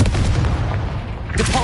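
Confringo blasting spell going off in the video game Hogwarts Legacy, a sustained booming blast with rumbling low end that flares again near the end, loud and close, with a voice briefly audible.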